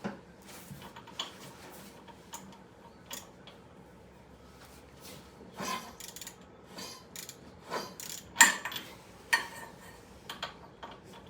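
Socket wrench turning the crankshaft pulley bolt on a 2003 Craftsman LT2000 riding mower, giving scattered ratcheting clicks and metallic clanks, close and fairly quiet, coming in irregular bursts with no talking.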